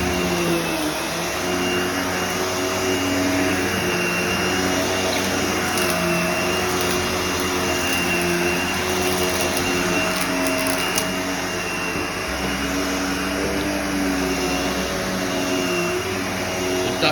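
An upright vacuum cleaner runs steadily on a loop pile carpet, a loud continuous motor whine with a constant hum, close by and alone throughout.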